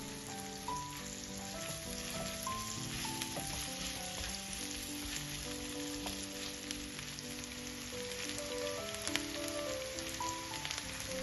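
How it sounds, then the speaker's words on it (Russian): Steady sizzling of zucchini frying in vegetable oil in a hot pan, a continuous crackling hiss with faint clinks, no talking. "На разогретую сковороду с растительным маслом выкладываю кабачки и распределяю их по сковороде ровным"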